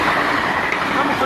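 A Sydney suburban train rolls into platform 2 at Concord West station. A loud, close, steady rumble of wheels and motors runs through the whole short moment.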